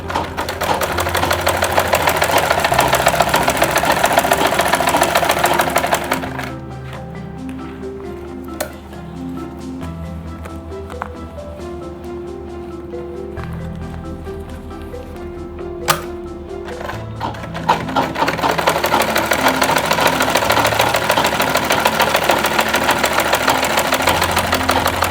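Electric sewing machine stitching a long belt strip onto a lunch bag: loud, fast, even motor whir in long bursts, with a quieter pause in the middle marked by single clicks, then running again.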